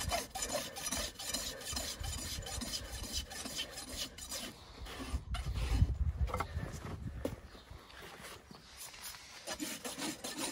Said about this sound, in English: I don't have a lot of problem with this rasp flogging.